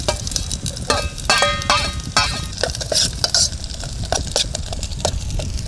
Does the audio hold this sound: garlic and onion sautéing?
yes